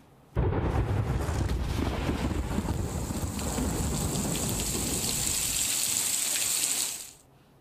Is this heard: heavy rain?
yes